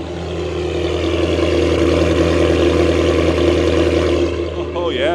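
A 1994 Maserati Shamal's Italian engine runs close and loud, holding a steady, rumbling exhaust note with a deep low drone for several seconds before easing off near the end.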